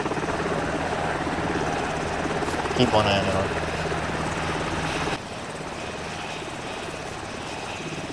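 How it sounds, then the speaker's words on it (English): A helicopter's rotor and engine drone loudly and steadily close by during an outdoor exercise, with someone speaking briefly over it. "Get to the chopper!"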